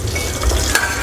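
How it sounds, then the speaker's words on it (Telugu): Green chillies frying in hot oil for a chutney, a brief close sizzle with a stirring clatter. "పచ్చిమిరపకాయలు నూనెలో వేపిస్తాం."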